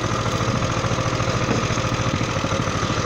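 A motorbike engine idles nearby, a loud, steady low rumble with a fast even pulsing throb throughout and no speech over it.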